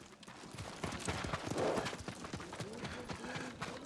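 Horse hooves clop in a steady, close rhythm as a rider dismounts in Ghost of Tsushima, the beat continuing through the whole moment with a soft whinny-like tone mixed in.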